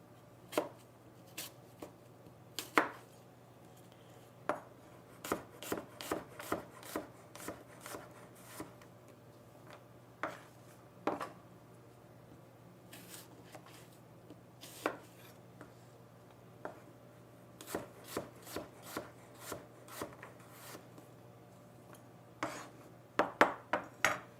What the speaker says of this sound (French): Et coupez en morceaux.